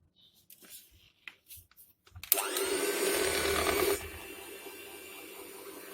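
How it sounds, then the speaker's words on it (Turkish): An electric mixer beats cocoa cake batter, kicking in abruptly after a quiet stretch with faint bumps and then whirring loudly and steadily before dropping to a lower, softer hum near the end. "Sonra mikserde çekiyorum."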